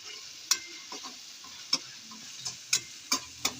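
Small tomatoes sizzle in a pan with ginger, garlic and whole spices, making a soft hiss under scattered sharp ticks and spoon clicks against the metal, with nobody speaking.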